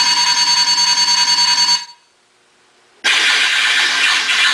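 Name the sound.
Millennium Falcon hyperdrive sound effect from custom guitar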